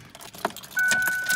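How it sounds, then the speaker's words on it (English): A car ignition after a fresh oil change: a brief jangle of keys and clicks, then the engine cranks and catches into a steady, fairly close running sound with a faint high whine. "we'll start the car up."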